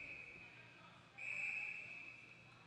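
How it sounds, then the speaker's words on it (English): A linesman's whistle at an ice hockey game between the Mercyhurst Lakers and Central Penn Panthers, a sustained high-pitched tone that swells louder partway through over the faint hum of the arena crowd. "There'll be a whistle from the linesman."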